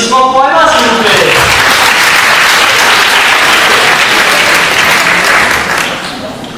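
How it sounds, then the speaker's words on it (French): A party audience at a magic show breaks into loud, dense applause for a child volunteer, sustained for several seconds before tapering off, with a voice speaking briefly as it starts. "Mesdames et messieurs, un tonnerre d'applaudissements pour Emma, s'il vous plaît."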